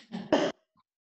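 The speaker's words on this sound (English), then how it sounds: "I want you to do a little cough." A single short, close cough in two quick bursts, followed by silence.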